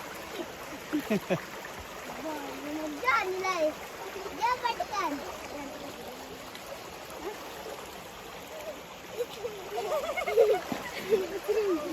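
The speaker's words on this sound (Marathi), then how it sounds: "समोर धबधबा या लागलाय" Steady rushing water from Pahine Waterfall and its stream near Nashik fills the scene, with splashes and children's voices calling out over it.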